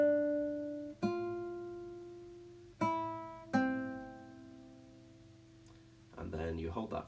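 Guitar plays the bridge riff of a TV theme: three clear plucked notes ring out and decay slowly, then a voice starts talking over the fading tone.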